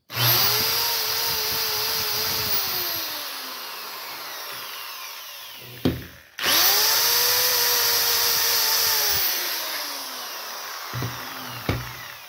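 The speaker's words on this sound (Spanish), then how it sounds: "vamos a conectar el taladro. Aquí tenemos la misma toma. Y este sí lo hace funcionar." Electric drill with a brushed motor, plugged into a wall outlet, whines up to full speed and then winds down, then does the same again, loud and close with no speech.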